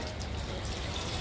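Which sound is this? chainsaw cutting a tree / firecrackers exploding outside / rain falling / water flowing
water flowing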